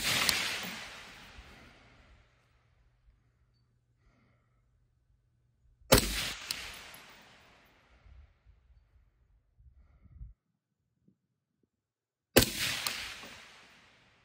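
Three loud, close gunshots fired outdoors in extreme cold around ten below zero with ammunition left outside for hours, each spaced several seconds apart with a short echoing tail and quiet gaps between.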